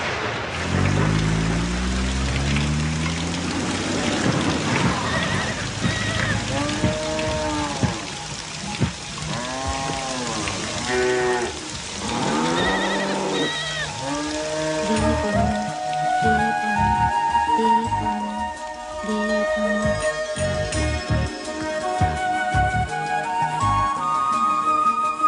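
Rain falls steadily in a film scene, a constant hiss running the whole time beneath music and voices.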